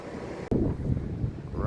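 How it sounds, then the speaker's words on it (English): Gusty wind at the beach in Nags Head buffeting the microphone outdoors, a loud low rumble that briefly cuts out and then roars back. "Right now it is windy."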